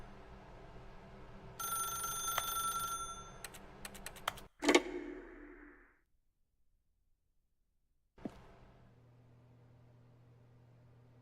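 A telephone rings in a video game, with a busy electronic, bell-like ringing over a steady background, followed by a loud burst and then a stretch of near silence before the ambient sound returns.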